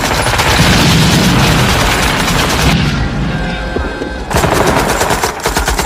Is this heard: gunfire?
yes